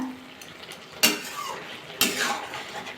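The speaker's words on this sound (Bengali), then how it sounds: "আবার একটু নাড়া চাড়া করে নিলাম" A spoon stirs boiled potatoes, carrots and stalks in a cooking pot, striking the metal in two sharp clanks about a second apart, with a soft scraping of vegetables between them.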